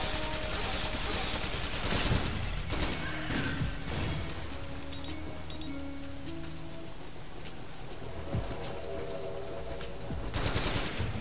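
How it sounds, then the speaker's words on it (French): Machine gun fire in Metal Gear Solid 4, bursts of rapid shots at the start and end with a quieter stretch between, mixed with game music and a voice talking. "C'est pour ça que je fais ça à la mitrailleuse"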